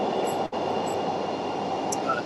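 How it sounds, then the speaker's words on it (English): Chicago Blue Line subway train pulling into the LaSalle Street station, a steady loud rumble of the cars filling the platform throughout, with a brief dip midway and faint squeals and a bell-like tone near the end. "Got a train coming in just as one was going out"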